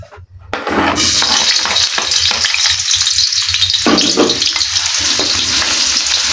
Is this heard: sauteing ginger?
yes